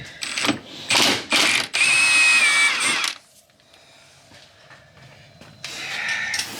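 A Milwaukee power ratchet backs out large screws during a 1988 Ford Mustang throwout bearing replacement, with several short loud whirring bursts followed by quieter clicks and handling noise and another burst at the end.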